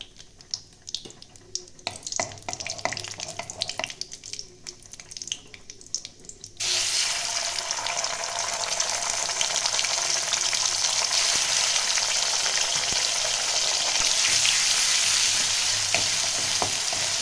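Ginger-cumin paste frying in a pan for a Bengali dohi potol dish, starting with scattered stirring clatter and light sizzle, then a loud continuous hiss of frying taking over and holding steady.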